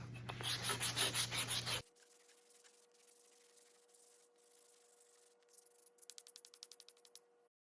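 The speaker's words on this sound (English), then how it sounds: "Now I have a 100 grit sandpaper." Wood is sanded by hand with 100 grit sandpaper. A burst of loud rhythmic rasping strokes comes first, then near silence with a faint hum, and a run of quicker, quieter strokes follows near the end.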